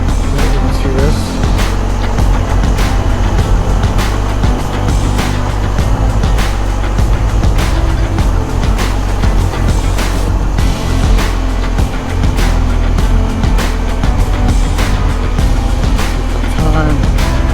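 BMW R1250 GSA motorcycle riding along loose gravel tire ruts on a mixed road in North Carolina or Virginia, a loud continuous engine drone with steady wind rush and crunching ground noise throughout.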